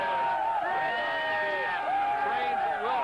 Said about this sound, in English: This is some of the crowd that is heading back from Times Square.